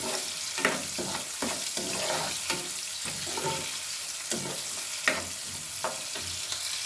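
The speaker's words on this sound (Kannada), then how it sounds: "ಇದು ಈ ಥರ ಆಯಿಲಲ್ಲಿ ಚೆನ್ನಾಗಿ ಫ್ರೈ ಮಾಡ್ಕೊಳ್ಳೋಣ" Food frying in hot oil in a pan, a continuous close sizzle with periodic scraping strokes of a spoon stirring through it, no voices.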